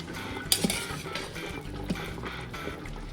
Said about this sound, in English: So just put your shrimp down in there, and we're gonna let the shrimp cook.